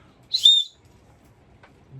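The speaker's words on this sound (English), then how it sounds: "one thing on the outside of the bag that is always reachable is a whistle. This thing is a very loud, high pitch." A single short, shrill blast from an emergency whistle kept on a tornado shelter bag, loud and close, followed by quiet room sound.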